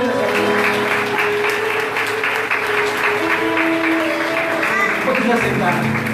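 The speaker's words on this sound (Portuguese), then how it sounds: "Você pode dar uma salva de palmas para Jesus nessa vida." Church congregation gives a sustained round of applause, dense steady clapping filling the room at moderate level with voices and tonal sound running underneath.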